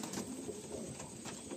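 Madrasi pigeons coo softly nearby, faint low repeated coos over a quiet background hiss, with no voices.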